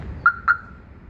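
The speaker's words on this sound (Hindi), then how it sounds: "सेंटर लॉक तो सही काम कर रहा है" Two quick electronic beeps from a car's central locking, sharp and moderately loud, with faint outdoor ambience behind.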